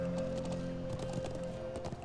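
Horse hooves clip-clop with a soft whinny in a Trails of Cold Steel game scene, a close, steady clatter over a sustained background tone.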